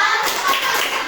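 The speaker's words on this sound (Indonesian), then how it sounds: "Kasih tepuk jempol sama kawannya." Schoolchildren in an elementary classroom giving a classmate a short burst of thumbs-up clapping, a quick, soft patter of small hands over about a second.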